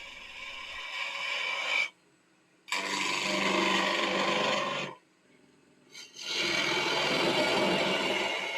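A chisel cuts a wooden baluster spinning on a lathe, producing loud rasping, scraping bursts in three long passes separated by short silent pauses.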